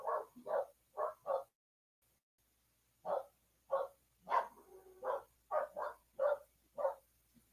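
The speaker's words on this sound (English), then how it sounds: "the only one of these dogs is barking right now is Honey" A dog named Honey barks in quick bursts, with a pair, then a triple, a pause, then a longer irregular run of sharp barks, fairly close and alone with no talking.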